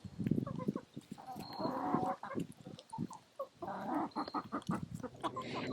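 A group of turkeys, including a mother hen being fed muffins, give scattered clucks and short calls, fairly quiet and close, with brief pauses between bursts.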